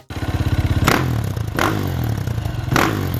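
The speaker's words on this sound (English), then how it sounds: "The single cylinder is basically the most boring engine on paper." A single-cylinder motorcycle engine idles with a rapid, even thumping pulse, then gets three sharp, loud revs close by, each rising and falling quickly.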